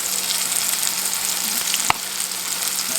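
Foraged yard greens such as dandelion, chickweed, hosta and violet frying in a pan, giving a steady bright sizzle throughout with one sharp clink partway through.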